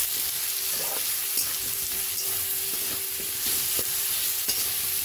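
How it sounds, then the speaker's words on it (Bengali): Salt, turmeric and half a spoon of coriander powder fry in hot oil in a pan, a dense, even hiss with faint stirring taps, loud and close with nobody speaking. "নুন, হলুদ আর মশলা দিয়ে একটু ভেজে নেব"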